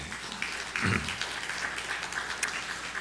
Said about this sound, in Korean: 박수로 격려하시고 위로하시기 바랍니다.